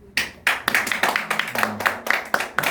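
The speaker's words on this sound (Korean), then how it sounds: "미안하지만 박수는 사양하겠습니다" Brisk clapping from a small audience at a Hangul Day poetry recital performance, with about a dozen loud, close claps in a quick, slightly uneven rhythm.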